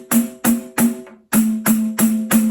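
Seven sharp pandeiro strikes in a steady pulse, each a bright jingle crash over a ringing drum tone whose pitch shifts as fingers press the goatskin head from behind; one softer, muted hit sits near the middle, played alone and close.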